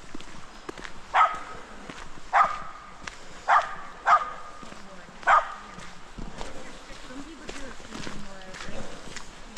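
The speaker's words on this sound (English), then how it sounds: "There's some little doggies," Several small dogs give five sharp, separate barks at a steady interval over outdoor background noise, with faint footsteps and a voice underneath.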